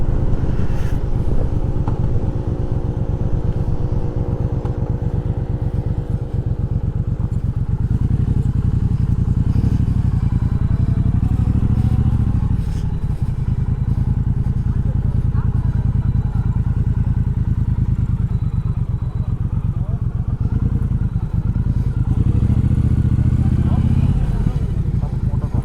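A Triumph Speedmaster 1200cc motorcycle on a road ride, its engine and exhaust giving a steady, loud, deep rumble throughout with wind buffeting, and a voice speaking over it.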